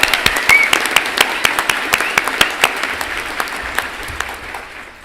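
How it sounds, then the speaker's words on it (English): Audience applause at a veterinary medicine graduation ceremony for a university brass ensemble, many hands clapping in a large hall with some distinct close claps standing out, gradually thinning and fading toward the end. "please also join me in a round of applause for the CSU Brass Ensemble"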